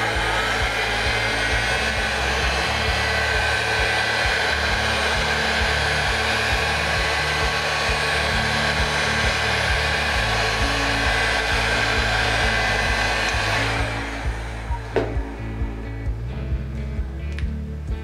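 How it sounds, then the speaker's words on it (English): A hot air gun blows steadily to dry a light first coat of paint on a wahoo stickbait fishing lure, a loud continuous whooshing drone that cuts off near the end, leaving a few faint clicks. "Very light first coating, and of course the hot air gun."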